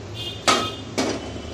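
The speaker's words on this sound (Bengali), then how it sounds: "কড়াই বসে দিলাম।" Two sharp metallic clanks half a second apart as a wok (kadai) is set down on a kitchen stove before frying beef singaras, each knock ringing briefly over a quiet room with no talking.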